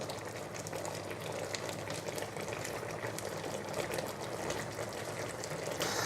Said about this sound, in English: Now you want to turn the heat up and bring this to a boil really